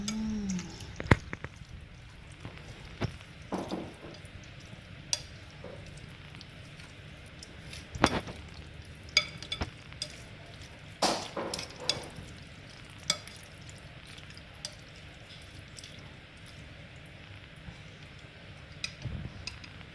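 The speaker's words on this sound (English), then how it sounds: "I'm going to mix them up" A spoon stirs and clinks through a bowl of chilli pan mee noodle soup with egg, giving scattered close scrapes and light knocks over a quiet background, with no talking.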